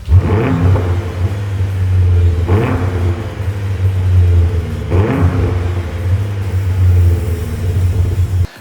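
A sports car engine rumbles with a deep, steady exhaust burble, swelling in three brief revs before cutting off abruptly; loud and close, no voices.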